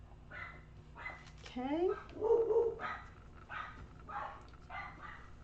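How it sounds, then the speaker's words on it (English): Dogs bark repeatedly in short sharp bursts a little way off, with a whimpering yelp in the middle, while a person speaks briefly nearby. "the dogs are barking at someone"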